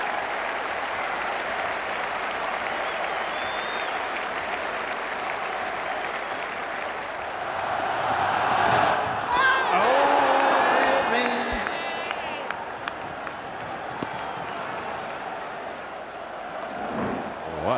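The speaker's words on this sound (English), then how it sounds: "The applause should last forever." Crowd applause at an Ashes cricket Test at Old Trafford, 2005, greeting the Australian captain's rearguard innings: steady broad clapping from a large stadium crowd throughout, swelling with scattered whoops and cheers midway.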